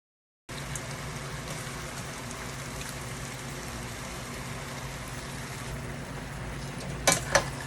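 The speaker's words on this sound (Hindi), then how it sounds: "फिर इसके अंदर हम चिकन डाल के उसको भूनते हैं तेज़ आग पे।" Chicken frying with masala over high flame, a dense, even crackling sizzle heard up close and unbroken, with a couple of sharper clinks near the end.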